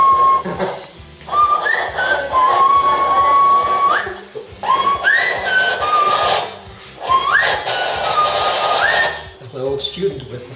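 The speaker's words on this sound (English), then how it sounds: "My old student whistle." A whistle, the speaker's old student whistle, blown in repeated long tonal blasts with pitch slides, loud and close, with people talking between and around the blasts.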